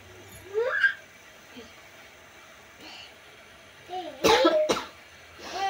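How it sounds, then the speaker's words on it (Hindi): Several sharp coughs close by, a short pair early on and a louder cluster of harsh coughs later, with faint background hum. "देखो हम लोग की खांसी आ रही है"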